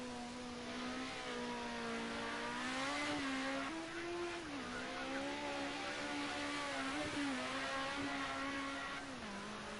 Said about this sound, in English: doing a bit of rallycross with the Sierra